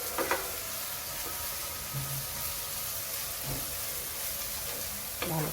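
Dried red chili sizzles in hot tempering oil with cumin seeds and bay leaf, giving a steady loud crackle and hiss throughout. A few brief clinks of a utensil cut through, and there is no talk over it.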